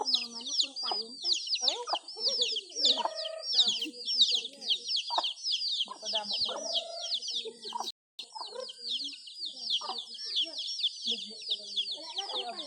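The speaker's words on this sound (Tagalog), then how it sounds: "Nabalat ng mga manok kung kayon ka." Several chickens cluck steadily and close by, with a continuous high insect-like drone in the background and a brief gap partway through.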